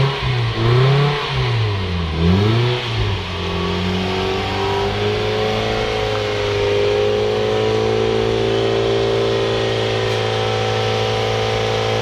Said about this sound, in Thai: ดังเลยเร่งสุดเลย